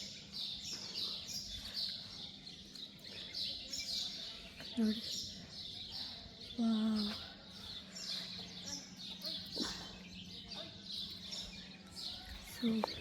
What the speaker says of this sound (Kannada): ಇದು ಬರ್ಡ್ಸ್ ಇದು ಸೌಂಡ್ ಕೂಡ ಸಕ್ಕತ್ತಾಗಿದೆ